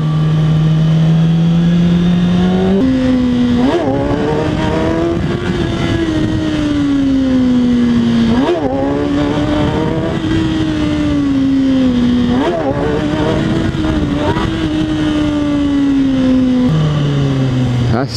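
A motorcycle doing wheelies at night, its engine revving loud and close in long sustained pulls, dipping briefly between throttle surges and rising again, with no talk over it.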